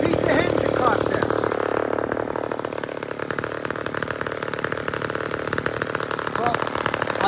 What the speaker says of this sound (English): I can't believe that saw's still running.